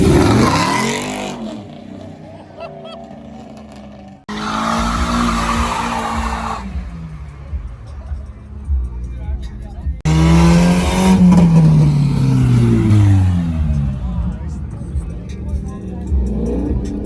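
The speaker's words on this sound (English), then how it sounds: "Do a burnout!" A car at a pre-meet gathering of cops, trucks and cars doing burnouts: the engine revs hard and tires squeal loudly in long bursts, with cheering and shouting from a crowd nearby.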